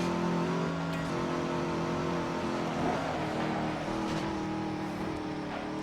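Race car engine held at full throttle in the PS2 racing game Midnight Club 3 DUB Edition, a loud, steady, continuous roar throughout with no voice.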